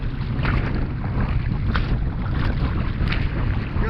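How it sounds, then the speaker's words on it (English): Strong wind blows past a boat on the Missouri River, making a loud, constant roar of microphone wind buffeting over a low water rumble, with no voices. "the wind kicked up, and it's been something terrible the whole way on this home stretch"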